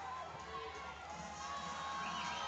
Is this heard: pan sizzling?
no